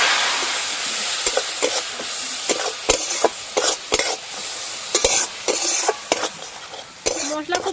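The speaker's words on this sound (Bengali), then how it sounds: "হলুদ গুঁড়ো, লঙ্কার গুঁড়ো, অল্প একটু জল দিয়ে মশলাটা ভালো করে কষে নেব।" Spices for a river fish curry fry with turmeric, chilli powder and a little water while being stirred, a loud close sizzle punctuated by repeated rhythmic scraping strokes of the spatula, without talk.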